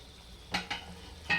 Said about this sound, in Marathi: एक पाचच मिनटं फुल गॅसवर चांगलं परतून घ्यायचं आहे